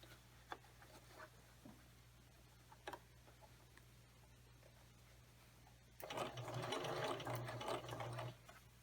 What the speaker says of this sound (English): Continue stitching with a straight stitch